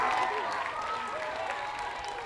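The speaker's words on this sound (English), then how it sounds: "Let's give Tammy a big round of" Applause at an elementary school teacher appreciation event, a fairly quiet crowd clapping with a few raised voices mixed in, steady and slightly fading over a short stretch.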